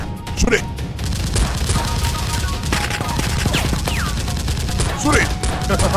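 Toy Nerf guns fire during a staged Nerf battle, loud rapid bursts of shots rattling almost continuously for several seconds.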